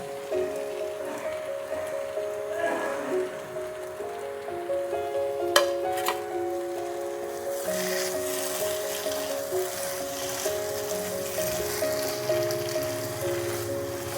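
Prawns fried earlier go into a pan of cooking taro leaves for a Bengali chingri kochur shaak. A soft, steady, rain-like sizzle follows, fairly faint, with light music running underneath.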